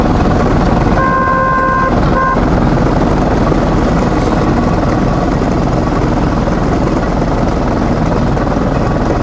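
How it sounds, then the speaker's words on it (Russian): A motor draisine's engine runs on a snowy narrow-gauge railway outside Moscow, worn and in need of adjustment. It makes a loud, steady, rough drone throughout, with a short tonal hoot early on. "спустя 6 лет работы двигатель, видимо, нуждается в регулировке"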